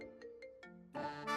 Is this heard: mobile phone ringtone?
yes